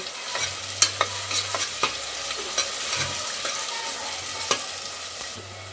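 Whole spices frying for goat head curry: cinnamon, bay leaf, cloves, cardamom and star anise crackling in hot oil, a close steady sizzle broken by sharp pops and spatters, no talking.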